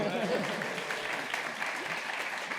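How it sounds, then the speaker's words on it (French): Steady applause from a crowd in a hall, a dense wash of clapping that holds at an even level throughout, with faint voices mixed in. "Il y a des applaudissements."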